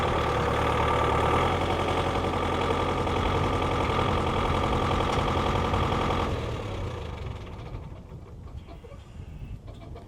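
A tractor engine chugs steadily at close range, loud and rumbling, then fades and quiets as it moves away.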